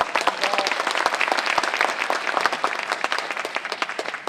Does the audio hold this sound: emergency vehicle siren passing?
no